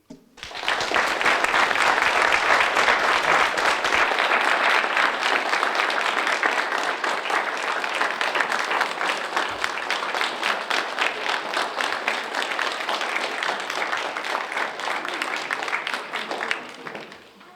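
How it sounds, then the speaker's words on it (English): A large audience at a hall of fame induction ceremony breaks into sustained, loud applause that fills the hall at an even level for over fifteen seconds before tapering off. "How about another round of applause for all of our inductees today?"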